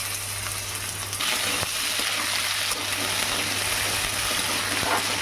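Potatoes fry in very hot oil in a pan, with fennel seeds and five-spice already added, making a steady, dense sizzle with a few faint clinks, loud and continuous throughout.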